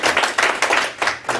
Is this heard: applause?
yes